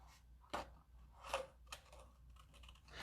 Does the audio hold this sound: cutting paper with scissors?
yes